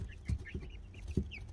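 Hens cluck softly nearby, a few low irregular clucks with higher chirps of young chicks scattered between them, faint and close.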